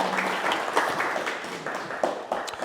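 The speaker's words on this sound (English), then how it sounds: "So let's give a round of applause for Lexi Clark." An audience at a Start Up Minot business event applauds to welcome a floral business owner to the stage, a short, fairly soft burst of scattered clapping from a small crowd.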